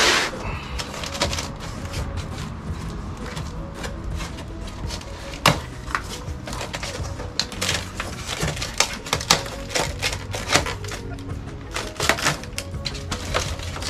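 Packing tape being peeled off a cardboard box holding a blower rack for a trailer: a long stretch of crackly, tearing rips and scattered sharp snaps, fairly close, fluctuating without any voice.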